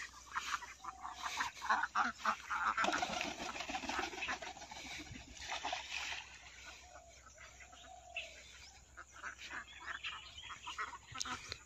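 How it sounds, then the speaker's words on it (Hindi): A flock of about ten Indian Runner and Khaki Campbell cross-breed ducks quacks and honks nearby, their loud, overlapping calls thickest early and then thinning to scattered quacks, with rustling and faint background noise throughout. "एटा इंडियन रनर और काकी कैम्बर रो क्रॉस ब्रीड"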